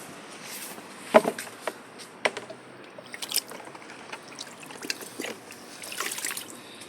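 Water is poured outdoors onto young pechay and tomato seedlings, making soft, intermittent trickles and small splashes. One sharper splash stands out among the quieter dribbles.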